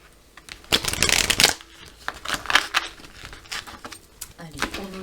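A deck of oracle cards being cut and handled during a tarot reading, giving crisp papery riffles and slaps in short bursts, close by, with a voice speaking briefly.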